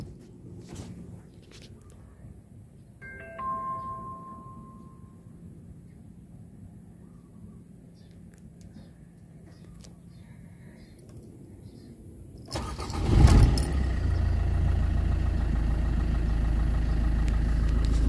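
After quiet clicks and a brief chime, a used Suzuki Ertiga Diesel Hybrid engine cranks and rumbles to life, then settles into a steady, low idle.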